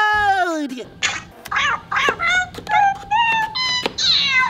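A Nintendo Labo Toy-Con cardboard piano played in kitty mode gives a run of synthetic cat meows, about eight short rising and falling mews in a bouncy sequence, close and clear.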